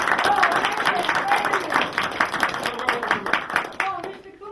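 Studio audience clapping for a singer on a late-night show, a lively round of distinct hand claps that stays steady and then thins out at the end, with someone talking faintly underneath.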